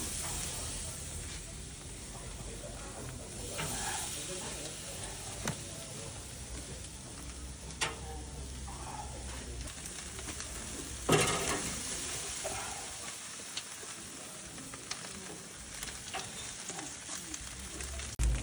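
A smoke-grilled T-bone steak gives off a steady sizzle and hiss on the grill, broken by occasional clicks and pops, with faint talk in the background.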